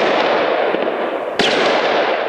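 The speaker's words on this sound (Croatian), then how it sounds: "Nova pucnjava u Parizu." Loud, dense crackling bursts fill the whole stretch, with a sharper crack near the middle, consistent with gunfire during a police operation in Paris, heard with no speech.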